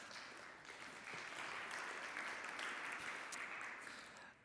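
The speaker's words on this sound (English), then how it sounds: "Give yourselves a round of applause." A conference audience at AtlasCamp 2017 claps together, a sustained, fairly distant wash of applause that swells and then fades toward the end.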